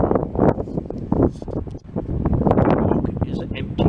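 Gusty wind buffets the microphone on a York railway station platform, a loud, rough rumble that swells and dips without pause, with someone talking over it.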